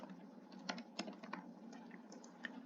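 Quiet typing on a computer keyboard while entering data into a spreadsheet, a short run of soft, irregular key clicks over a low steady hum.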